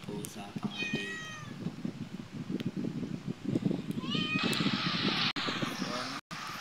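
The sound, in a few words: cat meowing in SA:MP (GTA San Andreas Multiplayer) video game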